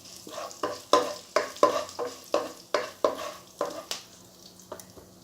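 Curry leaves are tempered in hot oil in a pan, a soft steady sizzle broken by a regular series of sharp scraping stirs about every half second, close and clear with no talking.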